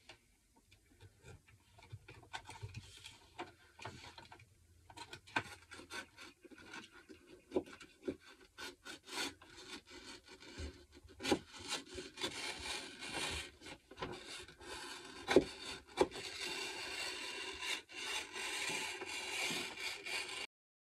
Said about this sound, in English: Just by using the knife to slide along the hole